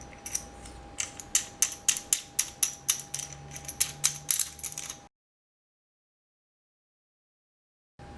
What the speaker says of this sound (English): I like to stack everything and then just put the head on top.